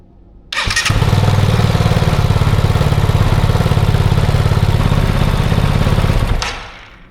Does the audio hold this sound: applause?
no